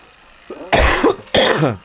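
Two hoarse coughs from a man in a casual chat-and-gaming stream, the first at 0.7 s and the second at 1.35 s, both loud and close, with a short breathy lead-in before them.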